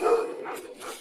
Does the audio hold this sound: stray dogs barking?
yes